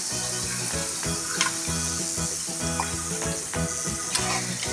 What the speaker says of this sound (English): Look at the koftas, they're frying.